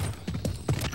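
Horse hooves clip-clopping at a steady walking rhythm in Metal Gear Solid Peace Walker, four or five clear thuds over a low game background, close and moderately loud with no talk.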